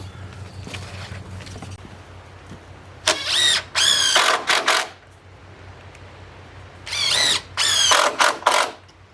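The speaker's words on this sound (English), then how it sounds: "I'm just going to go ahead, put the last of the screws in" Cordless driver sinking screws into tongue and groove boards on a 16x20 A-frame cabin: two close, loud bursts of whirring motor pulses rising in pitch, with a quieter, steady background hum between them.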